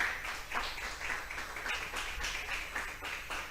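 A church congregation claps together in praise, a dense, steady wash of applause with a loosely rhythmic pulse running through the whole stretch.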